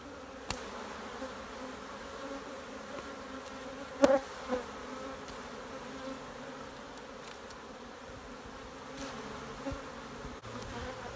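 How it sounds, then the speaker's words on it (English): Honey bees buzz steadily throughout during a December honey harvest, a dense, continuous hum of many insects close by with a couple of brief knocks partway through. "Now we've got to shake some of the bees back in."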